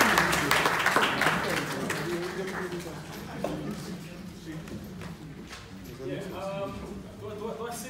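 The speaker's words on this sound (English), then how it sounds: "Let's give them a round of applause, first of all." Audience applause welcoming performers at a mental health and suicide awareness performance event, sustained clapping at moderate volume mixed with crowd murmur and voices talking over it.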